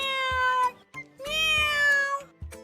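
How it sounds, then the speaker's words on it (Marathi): A house cat meows loudly and close by in a domestic scene, giving two long drawn-out wailing calls, the second longer than the first, with brief pauses and short clicks between them. "आधी गेला ते मांजर."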